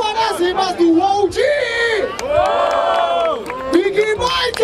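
A crowd at a Brazilian rap battle cheers and yells loudly, with voices overlapping in a sustained roar of shouts and whoops that swell and fade over several seconds.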